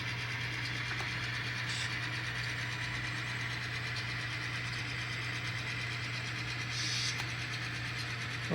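A maintenance-of-way work train's engines roll steadily along the track, a continuous rumbling drone with a constant low hum and faint rail clicks, with no talking.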